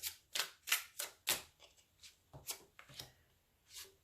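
Tarot cards being dealt and laid out in three rows of two on a table, giving a series of soft close papery slaps and brushes, about a dozen in quick irregular succession, quiet and with no speech.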